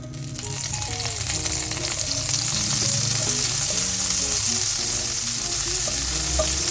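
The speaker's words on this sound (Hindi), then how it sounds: "इसमें डाल देते हैं ये बटर मैं 1 टेबल स्पून ले रही हूँ।" A tablespoon of butter melts in a little oil in a pan for white sauce, producing a loud continuous sizzle and crackle that stays dense and even throughout, up close with no talk.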